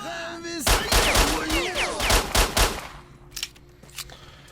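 PMM pistol gunfire in S.T.A.L.K.E.R. Shadow of Chernobyl, a quick string of sharp, loud shots with a few more scattered, fainter reports trailing off afterward.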